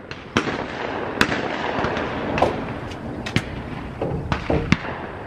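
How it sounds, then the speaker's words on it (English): Bursts of MP5 gunfire at an outdoor shooting session, eight or so sharp reports spaced irregularly over a steady background rumble, each crack loud and close with short decays. "Soft shooting gun."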